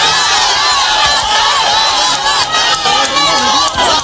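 An angry crowd outside the Dinhata police station shouts and chants 'thief, thief' at a former minister, a dense, continuous roar of many raised voices, loud and close throughout.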